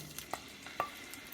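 Beans tipped into a hot pan with toasted cumin for ful medames, then stirred: a couple of soft scraping knocks over a faint, quiet sizzle, with no voices.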